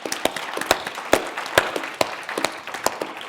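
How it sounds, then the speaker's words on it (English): An audience at a food panel event applauds the chefs with sparse, scattered hand claps, moderately loud and fairly close, with no talking. "could we have a round of applause for the chefs?"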